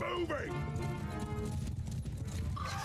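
Cavalry horses gallop in Mount & Blade II: Bannerlord, their hooves thudding in a steady, fast rhythm under someone talking, with a brief whinny-like tone near the end.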